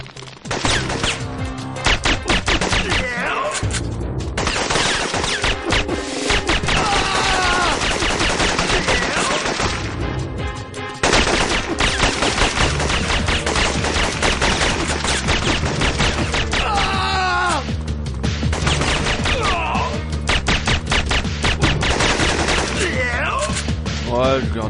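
Enemy gunfire in a video game mission rattles in loud, rapid automatic bursts nearly nonstop, with brief gaps between volleys and occasional talk over the shooting.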